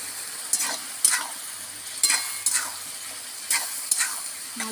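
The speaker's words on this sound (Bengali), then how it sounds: "ভালো করে কষিয়ে নেব।" Papaya and potato sautéing with Kashmiri chilli powder, salt and spices in a pan, a steady sizzle broken by repeated scraping stir strokes, close and clear with no talk.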